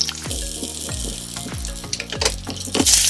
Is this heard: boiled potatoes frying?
yes